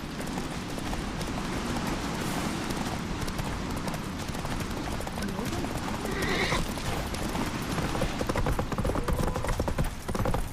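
Roach, a horse in the video game The Witcher 3, gallops with rapid, continuous hoofbeats, and a loud whinny rises midway through, all close and forceful over a dense mix of game sound.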